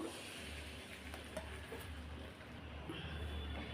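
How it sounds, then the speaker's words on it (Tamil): Appam batter hissing and sizzling in a hot appam pan, a steady broadband crackle at moderate, low volume that runs continuously with a faint low hum beneath. "நம்ம மாவு ஊற்றும் போது சுருன்னு சவுண்டு வரணும் பாருங்கள் இந்த மாதிரி சவுண்டு வரணும்"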